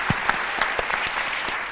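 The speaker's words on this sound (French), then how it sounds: "Donc quand même, ça s'applaudit" Studio audience applause on a live Ivorian midday TV programme, a short burst of scattered claps at moderate level, fairly close, with no talk over it.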